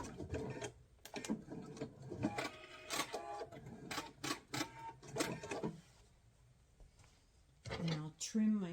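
A sewing machine stitches a box seam in fabric, running in short rattling bursts broken by pauses, with someone talking over and between the runs.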